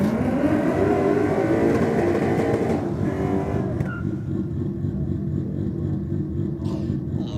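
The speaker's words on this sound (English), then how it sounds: "Nice little burnout from the Lexus." A Lexus does a burnout at Sydney Dragway, its engine a loud, steady roaring drone that holds throughout, with a slight drop in intensity partway through.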